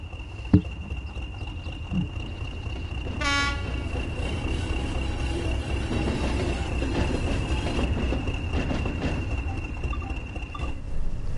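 A BR Class 20 diesel locomotive in Train Sim World 2, recorded at the Great Central Railway, rumbles steadily with a low, droning engine and sustained whine, and one short horn toot sounds early on.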